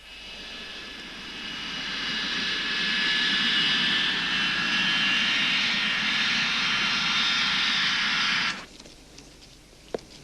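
Airplane engine at an airport in Biysk during a special flight delivering a coffin, a loud steady jet-like roar with a high whine that cuts off abruptly near the end, followed by quiet with small knocks.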